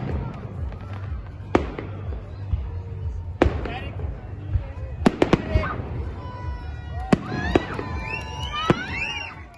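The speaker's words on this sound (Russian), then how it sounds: "Уже поздно вечером в Канаше прогремел долгожданный салют." Victory Day evening fireworks salute over the town of Kanash: a steady run of sharp, loud bangs and crackling bursts, with whistling trails and a murmuring crowd underneath.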